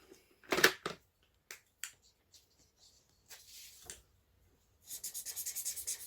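Pen or pencil strokes drawing a worry monster picture, heard up close as scattered scratchy bursts and short marks, ending in a rapid run of back-and-forth scribbling strokes, quiet and without talking.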